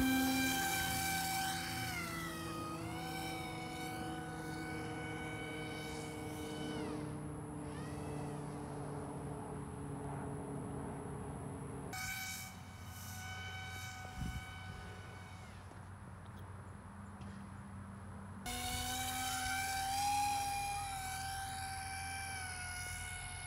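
Foam board twin boom RC plane flying and coming in to land, a steady whining electric motor tone with sweeping pitch changes, cutting out and resuming in sections, moderately faint and without talk.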